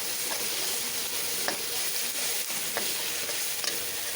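Masala spice paste frying in oil for a chana dal recipe, a steady close dense sizzle with faint crackles and occasional light pops throughout, no voices.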